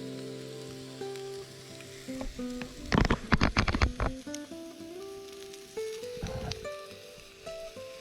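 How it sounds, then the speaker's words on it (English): Thin steaks sizzle in a hot pan at a campsite with a steady crackle, a louder burst of spitting and popping midway, then settling back to a gentle fizz. "And just laid those steaks on. They are sizzling nicely."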